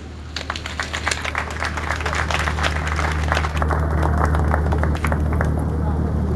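A crowd at an official ceremony applauds with dense, sustained clapping that builds and holds steady, loud and close over a low hum.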